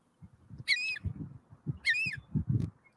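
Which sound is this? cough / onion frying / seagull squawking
seagull squawking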